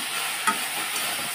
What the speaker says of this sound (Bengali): তো দিয়ে আবারও নাড়াচাড়া করে নেব